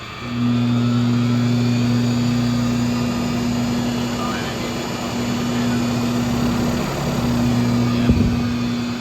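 Flutter from the OE aluminum driveshaft of a GM van with a vibration problem, heard while driving: a steady, droning low hum with a throbbing undertone, constant throughout with road noise.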